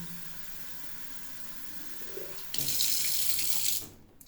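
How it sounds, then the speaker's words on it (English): A bathtub tap opens after a quiet stretch, and water rushes steadily into a container, loud and close, for over a second before it shuts off and the sound falls away. "So I'm filling it from the bathtub."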